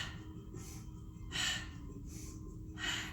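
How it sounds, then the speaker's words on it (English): Two slow, airy breaths are pushed out through the mouth during a spring yoga session, each a soft whooshing exhale heard close up over a quiet low hum. "I'm going to breathe out of my mouth so you can hear the breath."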